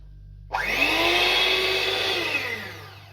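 A kitchen mixer whips egg whites with a squeeze of lemon juice for a chocolate protein roll, starting abruptly and running as a loud, steady whine with a slowly falling pitch before easing off near the end.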